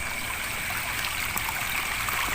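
River stream flowing at night near Sindanghaji, a steady close rushing and trickling of water with hiss and faint gurgles, continuous and even, with no talk.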